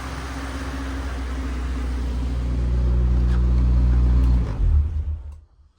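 A 2000 Integra GSR engine, freshly fitted with a new MAP sensor, runs with a steady low rumble that swells gradually louder before cutting off abruptly near the end, with no talking.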